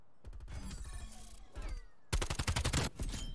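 Gunfire in the shooter game Black Ops Cold War, rapid automatic bursts of sharp shots, a brief pause, then a louder sustained burst close up.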